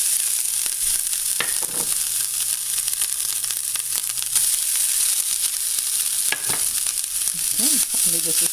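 Garlic roasts in a hot pan for a pomfret curry, giving a steady, loud sizzling hiss throughout with occasional scraping stirs and a few faint clicks.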